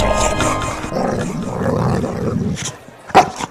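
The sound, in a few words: dog growling and barking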